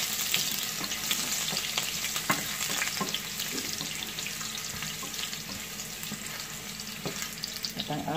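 Garlic frying in hot oil for a fish dish, a dense, steady, bright sizzle close up with faint occasional clicks, running without any talk.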